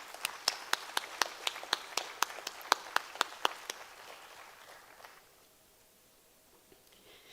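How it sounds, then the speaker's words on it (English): An event audience claps for its speakers: a run of crisp, evenly spaced claps close by, thinning and fading out after a few seconds into near quiet. "Let's give them a round of applause."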